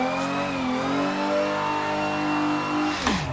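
A Toyota Supra engine held at the rev limiter on a track, a close, loud, steady high-pitched engine drone with a slight pitch dip near the end.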